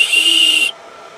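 A whistle built into a pocket outdoor knife sharpener sounds one loud, shrill, steady blast close up and then cuts off abruptly.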